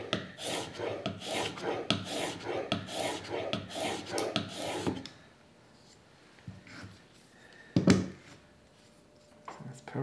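Hand plane blade being sharpened by hand: about five seconds of steady, rhythmic back-and-forth rubbing strokes up close, then quieter handling with a brief knock and faint scrapes, no talk.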